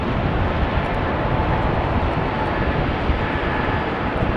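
A Boeing 777-200 rolls by at Amsterdam Schiphol airport, its jet engines giving a continuous loud broadband roar that holds steady throughout, with no voices.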